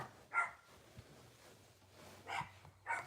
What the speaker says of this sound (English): Go in the house and stop that barking.